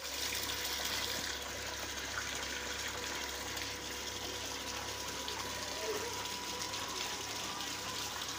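A Shahzad 12-volt DC solar pump pushing out water, a steady gushing and splashing flow that holds at an even level throughout, with no one talking.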